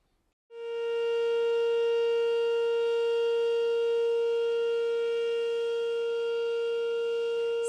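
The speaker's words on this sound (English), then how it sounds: "Sirens blared as the powerful line of storms moved across the Midwest." A loud, steady tornado warning siren starts abruptly and holds at one pitch without wavering, sounding alone for several seconds during a severe storm line in the Midwest.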